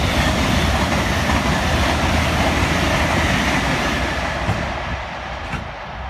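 A train carriage rolls along the rail line with a loud, dense, broadband rumble and rattle that is steady throughout and eases slightly toward the end, with no voices.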